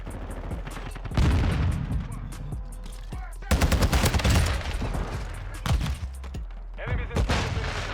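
Rapid bursts of automatic fire from a Taq V rifle in the video game Modern Warfare 2, loud and close, in several volleys with short gaps over a busy game background.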